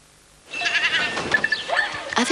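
Goat bleating, a couple of wavering cries heard clearly and fairly close over a faint background, without talk.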